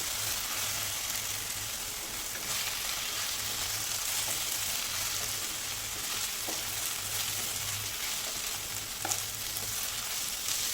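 Garlic and ginger paste frying in a pan for an egg curry, giving a continuous low hiss of sizzling oil with occasional faint ticks and stirring scrapes, fairly quiet and with no speech.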